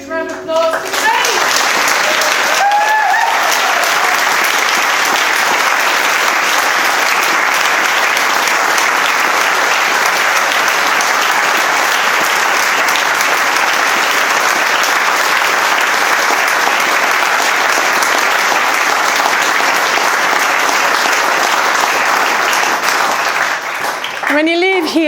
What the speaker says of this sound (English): Have a huge round of applause for Kate.